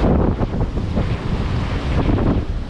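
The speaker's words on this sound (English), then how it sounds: "I like the moving water." A steady rush of water washing over rocks, loud and close, with a broad churning hiss and gusts of wind on the microphone.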